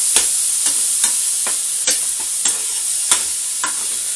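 Frozen mixed vegetables fry loudly in a pan, a bright continuous sizzle broken by a regular series of scraping stirs roughly every half second, with no talking.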